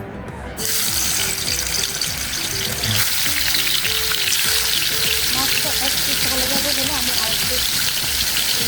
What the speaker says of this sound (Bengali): এই তেলের মধ্যে আমি তিন টুকরো মাছ দিয়ে দিব